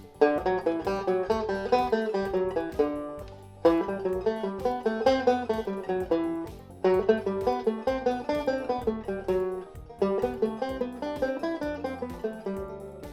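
Guitar notes picked on a single string run a thirds pattern into a descending scale, a fast, even stream of clean plucked tones repeated in four similar phrases, close and alone without talk.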